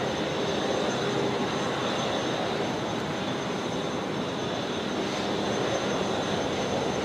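An Airbus A380 jet departs Brisbane Airport at night with a loud, steady, broadband engine roar. The sound holds unbroken for several seconds and no voices are heard.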